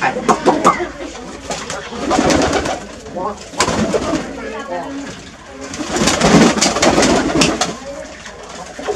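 Pigeons cooing close by in a loose flock, soft throaty coos and rustles rising and falling over several seconds, while someone talks intermittently over them.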